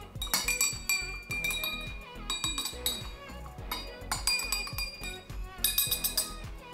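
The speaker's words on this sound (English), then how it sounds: "now let's stir them up." A spoon stirs colored liquids in glasses for a lava lamp experiment, making bright, repeated clinks and chimes of metal on glass in quick irregular bursts, close up.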